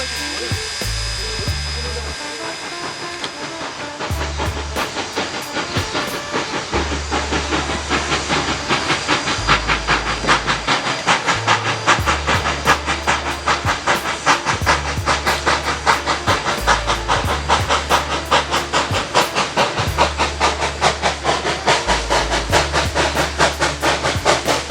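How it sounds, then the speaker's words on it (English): A steam locomotive, number 643, works hard hauling a seven-car train with two ex-Pennsylvania Railroad cabooses up a grade toward the crest: loud chuffing exhaust beats in a steady rhythm over continuous steam hiss, close by. "enjoy 643 slugging this 7-car train set up to the crest of the grade"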